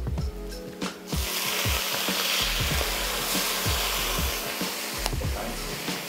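Regular Chinese soy sauce poured onto sizzling ginger in a hot pan, a sudden loud burst of hissing and crackling that settles into steady vigorous frying, close with a low hum underneath.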